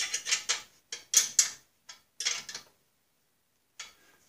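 A bolt is tightened with a ratchet on a mower attachment for a Snapper rear-engine rider, giving several short clicking bursts up close, then a pause and one last brief click.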